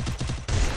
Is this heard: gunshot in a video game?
yes